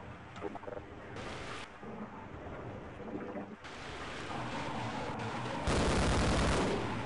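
Half-Life combat with scattered gunshots and a grenade blast amid rumbling, noisy game ambience, growing louder toward a heavy burst near the end; no voices.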